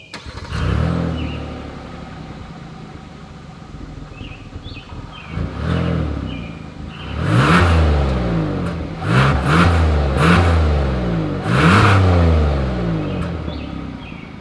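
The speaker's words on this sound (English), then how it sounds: "here is that exhaust clip" A 2022 Hyundai Palisade SUV's exhaust idles with a deep burble, then revs sharply several times in quick bursts, each roar climbing and dropping back, close and loud.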